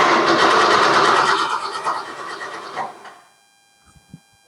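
A 1965 Ford Mustang that has sat unused for years cranks over to push fuel up to the carburetor, a loud, steady churning for about three seconds before it cuts off, followed by a few faint clicks.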